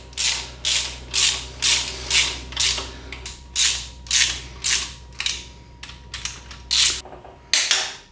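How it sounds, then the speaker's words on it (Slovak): A ratchet wrench tightens crankshaft bearing bolts on a TDI engine, giving close, loud bursts of rapid clicking in repeated strokes, around fifteen in all, over a low steady hum, with no talk. "Teda ja zaťahnem asi prvé, stredné a posledné a potom tie krajné."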